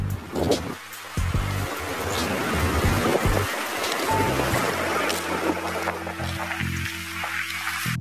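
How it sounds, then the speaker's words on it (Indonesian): Rain falls outdoors, recorded on an iPhone 13 Pro, as a steady broadband hiss with a low, rumbling undertone throughout. "Ya hujan dong. Hujan, pemirsa hujan."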